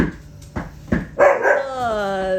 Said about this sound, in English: now we got dogs growling at each other